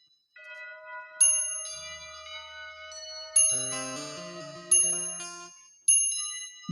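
Metallic cow bell rings out repeatedly in clear, bright strikes against a sustained musical background, each ring followed by a decaying shimmer, several strikes spaced a second or two apart.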